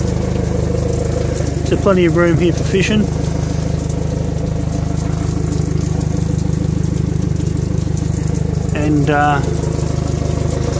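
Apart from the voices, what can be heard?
Suzuki DF90 outboard boat motor idling out of water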